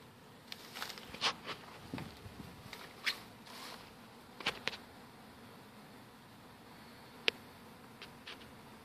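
Many bees swarming in a bee yard, a faint steady hum of insects with scattered soft taps and clicks close by, no talking.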